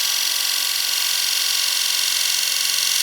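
A bowl gouge cuts a wooden bowl on a lathe against the grain with a slow, closed-flute cut, giving a steady, loud, hissing scrape that runs without pause and has no speech over it.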